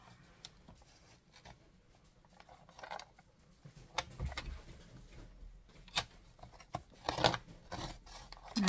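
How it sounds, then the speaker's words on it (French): Card for a vintage scrapbooking project being cut with scissors: scattered, irregular snips and crisp papery clicks, quiet and close, building slightly toward the end, with no talking. "Donc, je vais venir couper."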